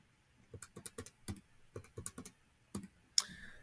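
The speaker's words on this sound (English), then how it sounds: "So let me type that in." Quiet keystrokes tap on a computer keyboard in a short, uneven burst of about a dozen clicks, close and clear with no talk.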